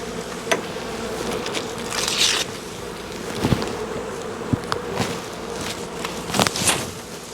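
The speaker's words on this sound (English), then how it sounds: "You can see the bees coming up because they don't like it." Honey bees buzzing around an opened hive during an inspection, a continuous drone close by, broken by a few brief knocks and rustles of handling.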